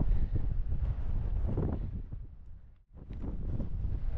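Wind roaring across the microphone on an e-mountain bike enduro ride near a lake, loud gusty buffeting that drops out sharply for a moment and then comes back full.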